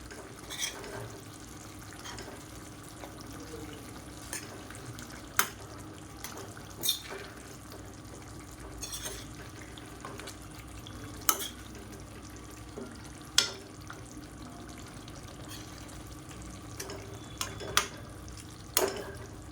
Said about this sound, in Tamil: இப்படியே நல்லா ரோஸ்ட் ஆகட்டும். இந்த மசாலா எல்லாமே இந்த முட்டையில் இறங்கணும்.